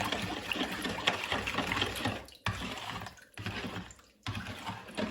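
Water poured and added to a marinade for broiler chickens in a kitchen; close, splashing liquid sounds in bursts with brief pauses between pours, fairly quiet overall and no talking.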